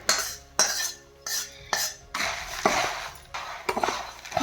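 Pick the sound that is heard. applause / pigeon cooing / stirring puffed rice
stirring puffed rice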